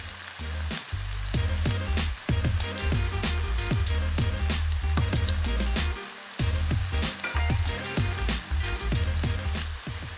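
Chopped tomatoes frying in a hot pan for Gising Gising crackle and sizzle loudly and close by, with a dense run of pops and spits, a couple of brief pauses, and no voices.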